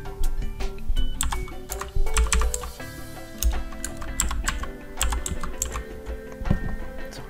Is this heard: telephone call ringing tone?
no